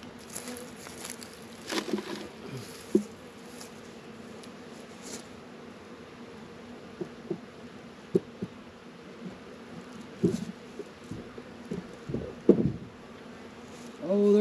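Soft, steady buzzing of Saskatraz honey bees close by at a Langstroth hive, with occasional light knocks and taps scattered throughout.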